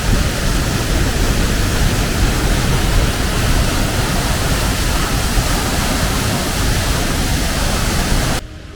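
The Mostnica waterfall near Voje pours into its gorge as a loud, dense, continuous roar of falling water and spray heard up close, with the noise dropping away abruptly just before the end and no speech.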